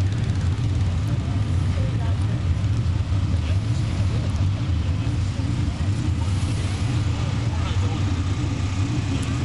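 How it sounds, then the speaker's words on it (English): 360 sprint cars racing on a dirt track, a dense, constant engine roar heard from a distance with steady low rumble throughout, with no breaks or quiet moments. "These are 360 sprints. Some of them are putting out 650 horsepower, which is really a lot for a dirt track."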